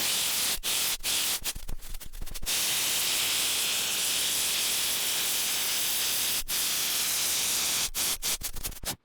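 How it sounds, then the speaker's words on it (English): A torch flame roars with a steady broadband hiss while annealing copper tubing on top of a 100-year-old steam locomotive's firebox, loud and continuous for several seconds with a few brief clicks and pops. "So we're going to do that with the torch quick."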